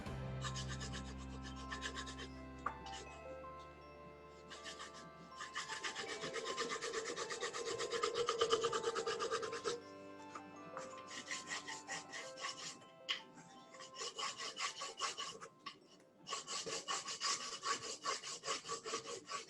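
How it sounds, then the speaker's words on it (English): Wax is rubbed by hand onto all four sides of a base coat for water transfer art, giving a dry, repeated scuffing in steady bursts of strokes. It is close and moderately loud, with no talking. "So here just apply the wax on all the 4 sides, okay?"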